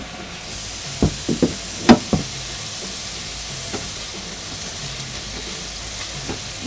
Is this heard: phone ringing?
no